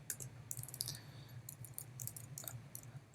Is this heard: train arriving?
no